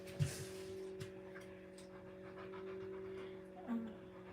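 A dog panting close by in a quiet room, breathing in soft steady bursts with a faint electrical hum underneath.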